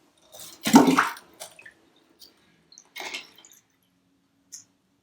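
Water is squeezed out of a hand-washed wool cowl, a few wet squishing bursts with drips and splashes, the first one longest and loudest, followed by short quiet trickles.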